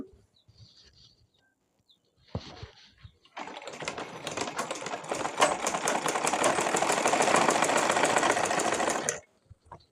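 A sewing machine stitches the collar of a school dress. A few faint handling sounds come first, then a close, loud run of fast rhythmic stitching lasting about six seconds that stops sharply.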